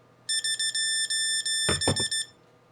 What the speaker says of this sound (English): So when you land, the buzzers will go off.